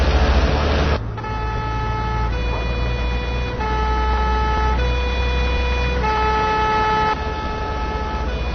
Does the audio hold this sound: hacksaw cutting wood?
no